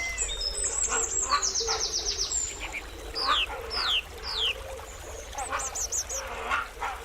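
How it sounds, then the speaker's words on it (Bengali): Birds calling in a North Bengal forest, with repeated chirping and whistled trills rising and falling in short bursts over a steady bed of ambient forest hiss. "এখানে আছে আমাদের জাতীয় পাখি ময়ূর আর আমাদের উত্তর পূর্বের গর্ব দ্য গ্রেট হর্নবিল"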